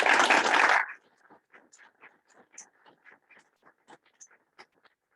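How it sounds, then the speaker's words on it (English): Attendees at a monthly board meeting give a round of applause, opening with a brief burst of full clapping that quickly drops to scattered, isolated claps trailing off in a quiet room. "just another round of applause, please"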